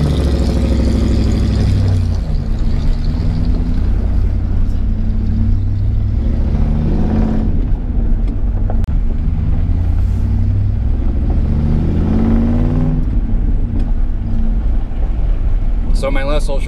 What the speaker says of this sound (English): we're gonna go for a little drive anyway